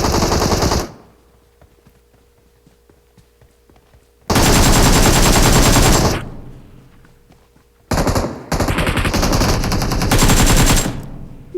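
Sustained automatic AK rifle fire in the PUBG battle royale game, three loud rapid bursts of a couple of seconds each separated by quieter gaps, with no talking.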